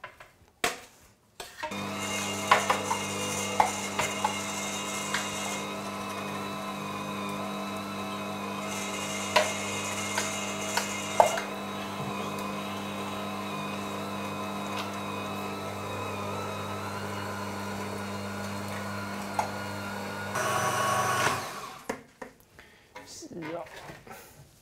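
A meat grinder with a medium plate runs for about twenty seconds, coarsely mincing sausage meat for bratwurst. Its steady, loud motor hum carries occasional clinks and knocks, with a person talking over it, and then it stops.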